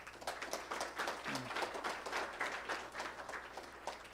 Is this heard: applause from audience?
yes